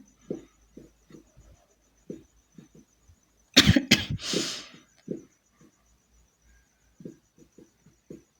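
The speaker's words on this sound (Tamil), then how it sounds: "த்ரோட் இன்ஃபெக்ஷனால் அப்பப்போ இருமல் வரும்" A burst of several harsh coughs up close from a person with a throat infection, set between quiet, soft sounds of kitchen work.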